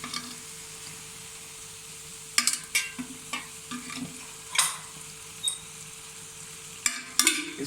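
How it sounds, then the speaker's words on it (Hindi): Beef keema sizzles on a hot tawa as oil is added, a steady frying hiss broken by scattered sharp metallic scrapes and clanks of a spatula stirring the mince, with no talking. "हम इसमें ऑयल शामिल कर रहे हैं हस्बे ज़रूरत"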